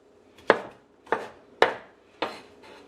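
A knife roughly chopping bitter melon on a cutting board for a scorpion pepper green goddess sauce, four separate solid thuds spaced about half a second apart, close by with no voices.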